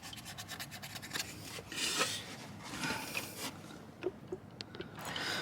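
Hand scraping and rubbing clean the seal face on a VW T5 1.9 TDI Transporter engine gives irregular rasping strokes and scratches, close but fairly quiet, with no talking.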